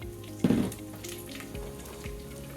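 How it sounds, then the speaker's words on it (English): Rice for Mexican rice hits hot oil with a sudden loud sizzle that settles into a steady crackling hiss, close by. "Hear it sizzle."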